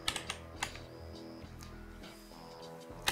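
A command being typed on a computer keyboard, a short run of close, crisp key clicks, a few quick taps then a pause and a final press, with no voices.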